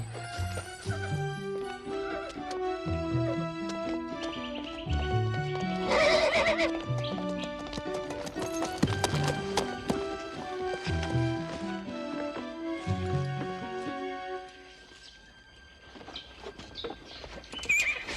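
A horse pulling a carriage whinnies loudly several times over a steady clip-clop of hooves, the whinnies rising and falling above the rhythmic hoofbeats, with no speech.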